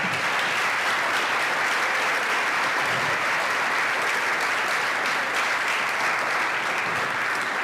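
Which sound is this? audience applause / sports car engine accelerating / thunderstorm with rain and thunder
audience applause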